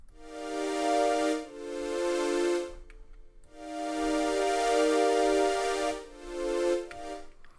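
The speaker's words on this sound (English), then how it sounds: "I added another synth, so synth number 3 sounds like this." Third synthesizer layer in an FL Studio future bass track, a bright harmonic synth melody in sustained swelling phrases with brief gaps between them, heard alone and fairly loud.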